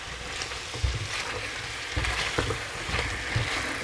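Courgettes are stirred into a masala in a pan, with a soft, continuous sizzle and a few low scraping knocks of the stirring spoon, fairly quiet and close.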